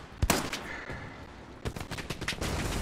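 Machine-gun fire in a World War II shooter game crackles in sharp bursts, a few loud isolated shots followed by a rapid, rattling fusillade, somewhat distant and fairly faint.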